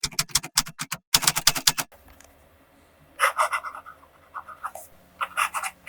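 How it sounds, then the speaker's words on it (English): A fountain pen with a soft fine nib and purple ink scratches across the paper of a Portage reporter's notebook. Close, rhythmic strokes come in quick bursts separated by short pauses. "The next writing sample is done in a Portage reporter's notebook."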